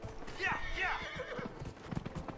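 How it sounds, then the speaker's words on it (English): Horse hooves in Dragon Age Inquisition clopping briefly under a voice, with a mount's whinny mixed in, close and moderately loud. "Alright, onward, my royal steed,"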